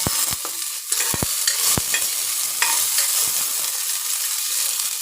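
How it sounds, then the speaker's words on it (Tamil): Onions sauté in a hot pan, sizzling steadily and loudly close by, while sharp scrapes and knocks of a spoon against the pan come early and then ease into a continuous fry. "ஆனியன் கொஞ்சம் வதங்கட்டும்"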